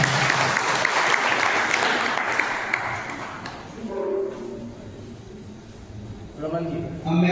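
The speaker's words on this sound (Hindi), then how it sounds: "तालियों से करकर स्वागत" An audience at a GST programme in Mandi Dhanora, Amroha, claps loudly to welcome GST department officials. The dense applause lasts about three seconds, then fades into a voice speaking over a quieter hall.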